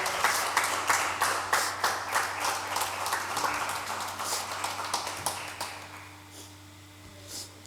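Church congregation giving a round of applause during a Portuguese-language worship service, steady dense clapping that fades out toward the end, with no talk over it.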